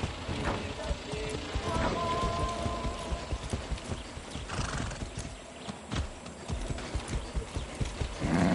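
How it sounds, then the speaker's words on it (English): Horse hooves clip-clop steadily in a PS4 video game, with the horse whinnying now and then; the footfalls stay close and continuous over the full stretch, mixed with soft game ambience. "Be nice, horse."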